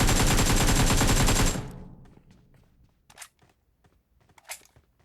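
A long, loud burst of continuous automatic gunfire in the PUBG Mobile battle royale game cuts off and fades, followed by a few scattered, fainter single shots and light movement sounds.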